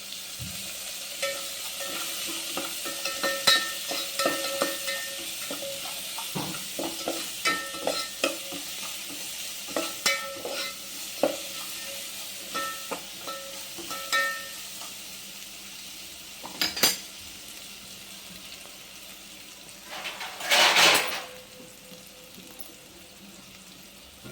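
Onions sauté in a pan for a Tamil brinjal buttermilk curry, a soft steady sizzle broken by repeated clinks and scrapes of a spoon stirring against the pan, with a louder scraping burst near the end.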